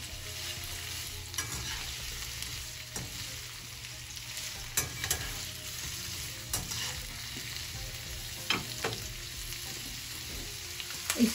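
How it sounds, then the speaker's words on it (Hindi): Onions frying on a high flame for chilli chicken, a steady loud sizzle broken by stirring scrapes and clatters, with no voices. "ये प्याज भी, हाई फ्लेम रखी है मैंने।"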